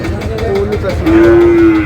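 At a cattle market in Dinajpur, Bangladesh, a cow or calf, likely Sahiwal, gives a loud, close moo that swells into a long, sustained low call over market noise.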